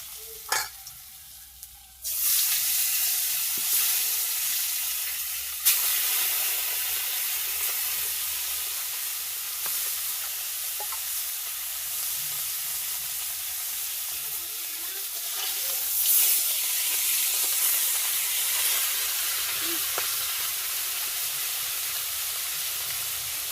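Fish fries in a hot pan with a steady, close sizzle and hiss that continues throughout, with occasional stirring scrapes and brief louder bursts of spitting oil.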